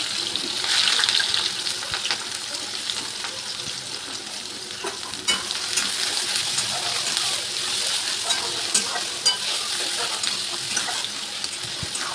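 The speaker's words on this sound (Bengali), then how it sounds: "কড়াইয়ে পেঁয়াজ ফোড়ন দিয়ে ভালো করে নাড়াচাড়া করে" Sliced onion sizzles steadily in hot oil in a wok (kadai) while being stirred, with scraping and rustling strokes throughout, close and fairly loud, no voices.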